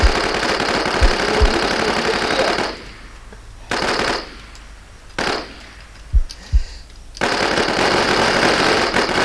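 Rapid automatic gunfire bursts in the video game WarZ, loud and dense, broken by a few short pauses and single sharp shots before continuous firing resumes.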